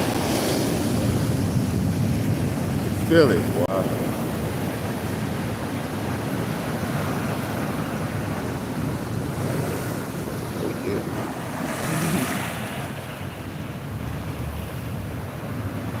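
Ocean waves and surf along a Hawaiian shore, a steady broad wash with wind buffeting the microphone, a brief thump near the start and a swell of surge later on; someone speaks a few words.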